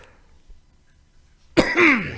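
Quiet at first, then one sudden, harsh allergy cough close by that trails into a raspy, throaty rumble.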